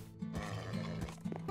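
Horse neighs in Minecraft: a fairly faint whinny repeats three times in a steady pattern, heard at moderate distance from a feisty modded horse.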